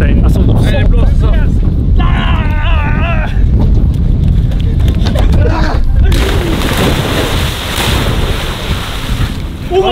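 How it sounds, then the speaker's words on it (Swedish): Strong wind buffets the microphone outdoors at a Swedish lake on a cold midsummer day, a loud continuous rumble with water lapping nearby; people talk and laugh over it. "men fan vad det blåser"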